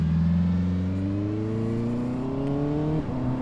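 A Honda CB650R motorcycle engine revs high and steady on an uphill mountain pass climb, its pitch rising continuously toward the top of the rev range before a brief dip and recovery near the end, loud and close with no talking.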